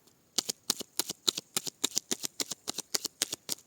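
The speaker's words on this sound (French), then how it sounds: "on va tirer quelques cartes" Oracle cards riffle-shuffled before a draw, about fifteen short crisp bursts in a steady rhythm, close and clear with no talking.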